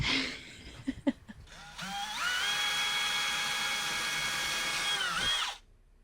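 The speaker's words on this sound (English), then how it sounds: "I'm going to go get my little baby drill bit and pre-drill this screw hole." A few light knocks, then a small power drill with a little bit whirs steadily for a few seconds at high pitch, pre-drilling a screw hole in a wood-studded back wall, before stopping abruptly.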